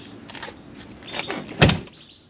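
A car door on a 1985 Mustang GT barn find is swung shut and closes with a single solid thud, preceded by faint creaks and scraping of the door moving, close by.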